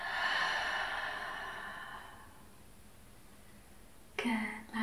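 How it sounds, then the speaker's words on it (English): A long, slow exhale through the mouth, a soft close breathy rush that fades over about two seconds, followed after a quiet gap by a brief, sharper breath sound. "Full exhale out through your mouth."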